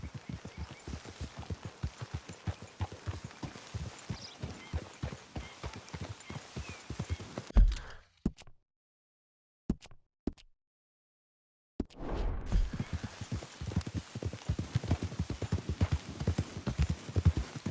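Horses trotting with steady clip-clop hooves while riding in Red Dead Redemption 2, loud and close, briefly cut to silence midway before the rhythmic hoofbeats resume.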